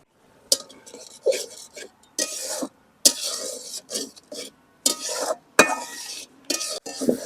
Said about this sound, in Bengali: মশলা খুব সুন্দর করে কষায় নিছি